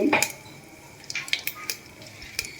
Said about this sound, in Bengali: এবার এই গোটা সব দিয়ে আমি ভেজে নিলাম সুন্দর করে